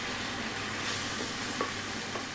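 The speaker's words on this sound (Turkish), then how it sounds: "Ve 5-10 dakika kadar kıyma harcımı orta ateşte pişirdim." Minced meat filling with added water simmers in a pan over medium heat, producing a continuous soft sizzle and bubbling hiss, quiet and even, with a faint clink or two and no talk.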